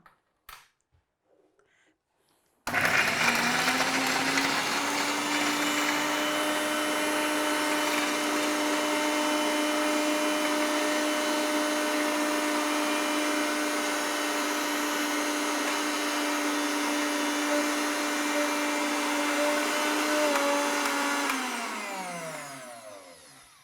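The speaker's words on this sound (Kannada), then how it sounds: "ಇದನ್ನು ನಾವು ಸ್ವಲ್ಪ ಗ್ರೈಂಡ್ ಮಾಡ್ಕೊಂಬಿಡೋಣ" A kitchen mixer grinder whirs loudly and steadily as it grinds ingredients into a smooth paste, starting abruptly after a short quiet pause, holding an even high-pitched motor whine for about twenty seconds, then winding down.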